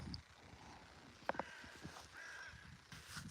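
A crow caws twice in quick succession, faint and distant, against a quiet outdoor background by the River Spey.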